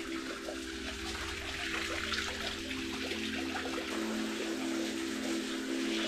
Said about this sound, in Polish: Spływająca woda, która znalazła szczelinę i kapie.